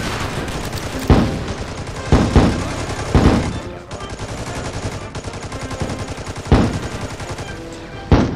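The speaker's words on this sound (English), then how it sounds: "Bazooka, mortar." Bazooka and mortar fire in the toy-army-men game Toy Box Battle Simulator: about five sharp, heavy blasts at irregular intervals over continuous rattling battle gunfire.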